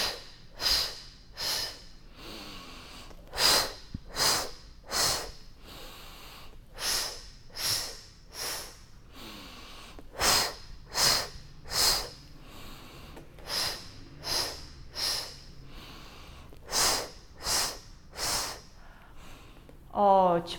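Short, sharp rhythmic breaths during a pilates exercise for pregnancy, a steady train of about twenty huffs through the nose and mouth, close and fairly loud, with no one talking.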